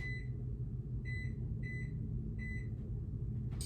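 Four short electronic beeps repeat at a steady pace over a constant low hum, like an appliance timer going off nearby.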